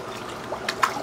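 Tilapia splashing at the water surface while being fed, a few small quick splashes close by, faint and brief, with some trickling water in the background and no speech.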